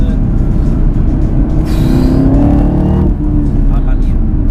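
A 650 hp Chevrolet Camaro ZL1 1LE engine accelerating, a loud, steady rising roar heard from inside the car while someone speaks over it.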